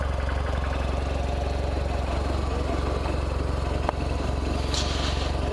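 A motorcycle engine runs at a steady idle with a low, regular throb, close and continuous, with a brief mechanical click partway through and no talking.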